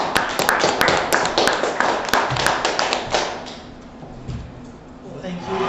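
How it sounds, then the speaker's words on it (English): Applause from an audience for performer Brian Hershey at a live show: brisk hand claps that are loud at first, then thin out and fade to a few scattered claps. "give another round of applause, please, for Brian Hershey"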